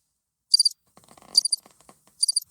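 Cricket chirps come in three short, high bursts spaced about a second apart, set against near silence with a few soft, faint ticks between them.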